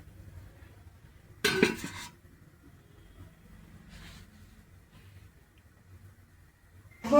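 A metal lid clatters onto a steaming pot of pitha, a sharp clanking scrape followed by a fainter clink and another knock at the end, over quiet kitchen background.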